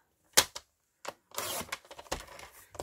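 Paper being trimmed by two millimetres for a holiday album page, a few sharp snips and crisp slicing bursts in close succession, near and clear with no talk.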